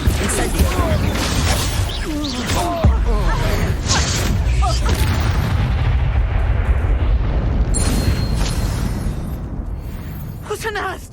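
A fiery Incendio blast booms out in Hogwarts Legacy, a loud burst followed by a rumbling roar amid the chaos of a spell duel, with voices talking over the clash.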